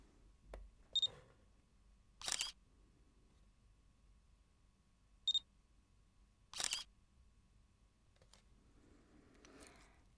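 Camera shutter clicks heard alone in a quiet room: a few sharp, close mechanical snaps spaced several seconds apart, with faint lighter clicks between them.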